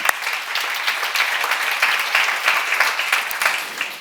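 A church congregation applauds during a sermon at a seminar, with continuous, even clapping from many hands filling about four seconds at a steady level before it trails off.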